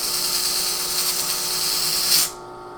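A flap wheel grinds a pinball ball guide, giving a steady high-pitched whine that runs for about two seconds and then cuts off abruptly.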